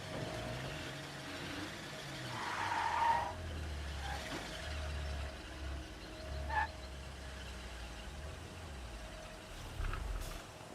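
A car in the zombie survival game State of Decay 2 skids with a drawn-out tire screech over a low engine rumble, a few brief scrapes and thumps along the way, steady and moderately loud.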